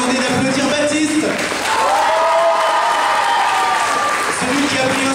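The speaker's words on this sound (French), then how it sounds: "Je vais demander d'applaudir Baptiste." Theater audience at a film screening event claps for a crew member, a dense wash of applause running throughout with voices and cheering mixed in over it.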